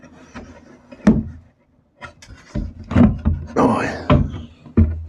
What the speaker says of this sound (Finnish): Otetaan ovi irti.